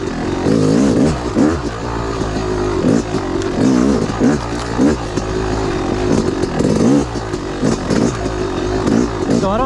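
A Yamaha YZ 250 dirt bike in woods setup, ridden along tight single track: a loud, close engine that rises and falls continuously through throttle blips and revs, with some rattle.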